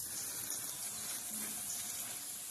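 Water runs and splashes steadily as a cat plays in it, a continuous close wash of sound with no voices.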